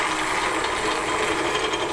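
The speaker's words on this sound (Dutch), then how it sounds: "Ik start de motoren!" Small electric motors in a model tank with assembled tracks run continuously, giving a close, steady mechanical whir with a gritty, gear-like grind and no pauses.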